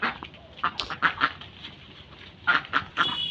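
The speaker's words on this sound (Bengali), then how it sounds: "আর এদিকে আছে আমার হাঁস" Pet ducks quack in short bursts beside a backyard swimming pool being filled, a few clustered calls early on and another cluster near the end, fairly close and clear with no talking.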